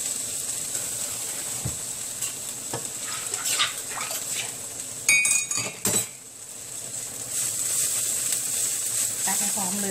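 A garlic, coriander root and pepper paste stir-fried in oil with added sauce and salt, a steady close sizzle with scattered clinks and scrapes of a utensil against the pan, briefly louder clatter midway.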